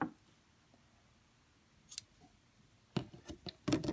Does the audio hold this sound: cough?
no